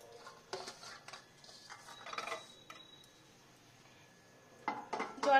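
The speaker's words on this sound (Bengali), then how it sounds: "এটা প্রেশার কুকারে দিয়ে দিলাম" Dried peas being put into a pressure cooker and the lid closed, with scattered metallic clinks, scrapes and clicks of the pot and lid, quiet with pauses and a louder clatter at the end.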